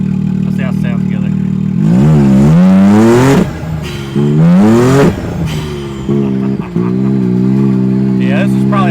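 A loud Can-Am side-by-side engine revs hard through a new exhaust in several sharp bursts, rising and falling between rough idling, close up.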